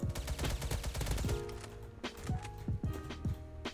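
Rapid shotgun and gunfire blasts in the video game Krunker, a dense burst of sharp repeated shots followed by scattered single blasts, loud and close.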